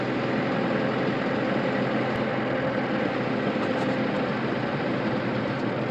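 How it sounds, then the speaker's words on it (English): A farm engine idles steadily while powering hay grinding, a constant low rumbling drone that stays even and fairly loud throughout, with no voices over it. "Engine running already. I'm sure that's been running since he left home this morning."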